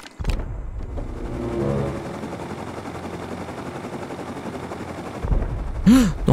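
Explosions and gunfire during a base raid in the survival game Rust, with a sharp blast at the start, a rattling burst through the middle and another heavy boom near the end, moderately loud and heard alone.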